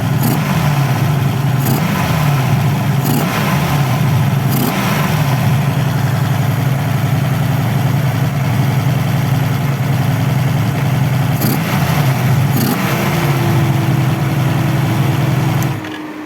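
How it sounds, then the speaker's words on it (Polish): A 1985 Honda Magna VF500C V30 motorcycle engine idles after its carburetors were tuned and synchronized, a steady, even, close-up rumble that continues unbroken for about sixteen seconds before cutting off at the very end. "bardzo, bardzo ładnie pracuje silnik, aż jestem w szoku, że tak się go fajnie udało wystroić"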